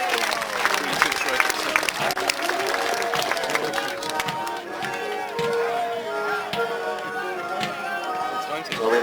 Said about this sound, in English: Give the Dragon Standard a round of applause